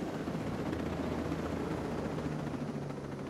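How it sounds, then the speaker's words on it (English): Helicopter in the video game Ghost Recon Breakpoint, a steady loud rotor drone and engine hum filling the whole stretch without pause. "get to the helicopter and then get to our destination, everyone"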